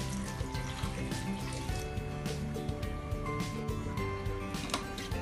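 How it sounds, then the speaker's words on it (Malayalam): Water is poured into a pumpkin and green gram curry with curry leaves and turmeric, a steady close splashing and gurgling stream running throughout without voices. "നമുക്കിനി ഇതിൻ്റെ അകത്തേക്ക് വെള്ളം ഒഴിച്ചു കൊടുക്കാം"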